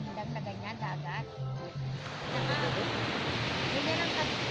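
Sea waves wash in continuous broadband surf noise, rising fuller and louder in the second half, with people talking over the first part.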